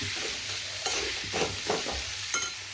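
A sweet mixture is stirred as it roasts in a pan for a Ganesh Chaturthi offering, giving steady scraping strokes over a soft continuous sizzle, close and moderately loud, with no talking.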